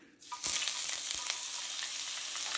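Garlic and onion hit a hot pan for shrimp and noodles, bursting into a loud, steady close-up sizzle that holds for a couple of seconds after a short quiet lead-in.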